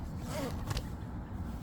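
The carry bag of an EcoFlow Delta 3 1000 Air power station is zipped shut in one short, close rasp over a steady background hum.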